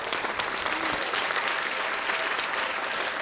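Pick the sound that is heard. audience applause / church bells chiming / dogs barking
audience applause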